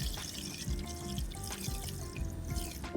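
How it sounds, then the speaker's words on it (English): Mineral sea salt poured into a basin of pedicure water during an at-home pedicure, a soft, close trickling and light splashing that runs continuously but quietly for a few seconds. "this is a mineral sea salt. So I am going to pour it in the water here."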